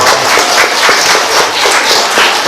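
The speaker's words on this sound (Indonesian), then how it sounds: "Ya, boleh tepuk tangan dong." An audience at a religious lecture claps throughout, dense and loud applause from many hands filling the whole stretch without pause.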